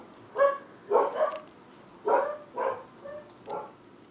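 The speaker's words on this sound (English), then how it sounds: "You'll probably hear my dogs barking in the background." Brittany Spaniel dogs bark indoors just after coming in from a long walk, giving about seven sharp, close barks in quick irregular bursts with short pauses between them.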